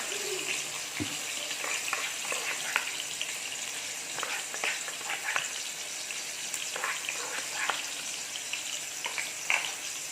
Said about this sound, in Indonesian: Kita masukkan, kita tumis bawang merahnya.